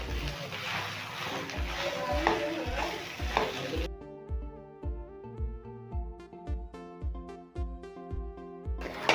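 A spoon scrapes and stirs spiced potato filling in a pan in a steady rhythmic beat, with faint sizzling underneath, and someone talks during the first few seconds, after which music plays along.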